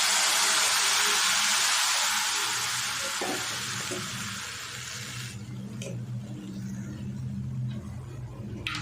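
White sugar syrup meets fried beaten rice flakes and coconut in a pan, starting with a loud bubbling hiss that fades into quieter stirring scrapes and soft clinks.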